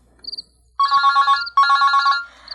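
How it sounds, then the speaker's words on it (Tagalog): Cellphone ringing with a bright electronic ringtone: a short chirp, then two sustained trilling bursts of the same pattern, loud and close, with no talk. "Mabitla ti cellphone ko."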